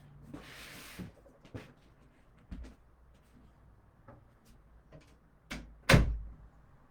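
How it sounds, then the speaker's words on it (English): A door is opened with a series of soft rubs, bumps and knocks in a quiet room, ending in one louder thud near the close. "let me get the door here"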